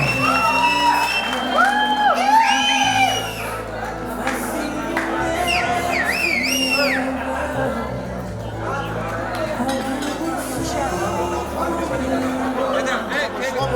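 Crowd at a Turkmen wedding party cheering and whooping with scattered applause, loud and sustained over festive music and chatter, with voices talking through it.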